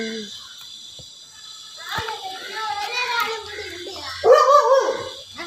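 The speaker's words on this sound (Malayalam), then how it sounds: "ഇവിടുത്തെ നായി" A dog barks and whimpers close by, the loudest burst near the end, while a voice chatters in the background.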